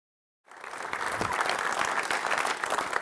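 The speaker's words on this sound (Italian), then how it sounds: "Ovviamente l'applauso è a questo straordinario personaggio" After a moment of silence, an audience at a book and documentary presentation bursts into dense, sustained applause, many hands clapping steadily and fairly close.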